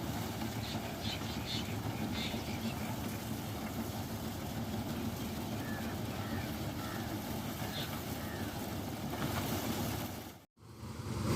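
A hired corn harvesting machine works a dry maize field, its engine droning steadily and loudly throughout with a brief dropout near the end.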